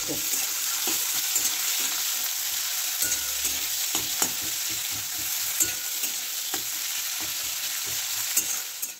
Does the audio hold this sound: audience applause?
no